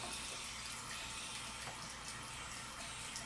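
Water runs steadily from a tap into a sink during face washing with a cleanser, a soft continuous splashing hiss with no talking.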